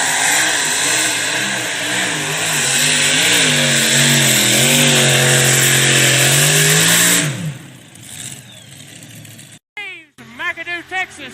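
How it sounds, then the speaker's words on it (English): Triple-engine big-block Chevrolet pulling truck at a farm show pull, roaring loud and sustained with rising pitch for about seven seconds, then cutting off into quieter crowd noise and brief announcer-style talk. "triple engine big block Chevrolet's Cotton Candy"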